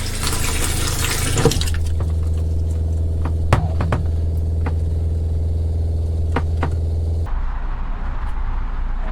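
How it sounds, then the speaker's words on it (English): Water runs through the sprayer of an Alto R travel trailer during de-winterizing, a close, loud rushing flow that sputters at first, settles into a steady stream, then shifts tone near the end. "And also the sprayer."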